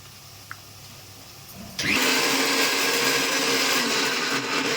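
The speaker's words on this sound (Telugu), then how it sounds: "ఈలోపు అల్లం ఉల్లిపాయ మిక్సీ పట్టుకున్నాం" An electric mixer grinder blending ginger and onion starts up abruptly after a quiet moment and then runs at a loud, steady whir to the end of the clip, with no voices.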